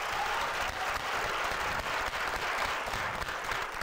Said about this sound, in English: Can we get applause?